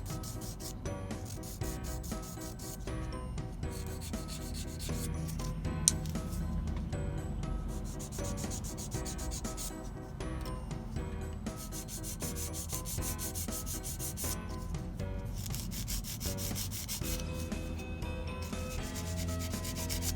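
Nails being shaped with a 100-180 grit nail file, a steady close rubbing rasp of quick back-and-forth strokes, soft and continuous throughout.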